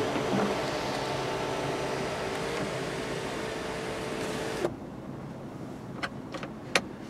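The power sunroof of a 2020 Volkswagen Passat SEL slides open with a steady electric motor whir and hum that stops with a soft thunk after nearly five seconds, followed by a few faint clicks in a quiet cabin.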